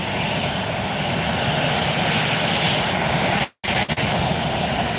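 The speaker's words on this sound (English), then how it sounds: "We've got a Delta jet taxiing up." Loud, steady engine roar of a Delta jet taxiing at Fort Lauderdale airport, broadband and continuous with heavy wind noise, briefly cut to silence near the end before resuming.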